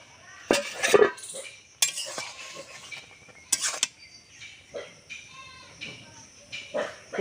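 Pressure cooker lid being opened to check boiled taro, with clanking metal knocks, scrapes and creaks of pot and lid close by, spaced out in bursts.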